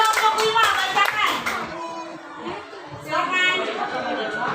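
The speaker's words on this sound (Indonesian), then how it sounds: "berikan tepuk tangan untuk kelompok 3" A classroom of children claps for group 3, a quick burst of hand claps with scattered chatter and young voices mixing in, then settling into talk and noise before another short swell.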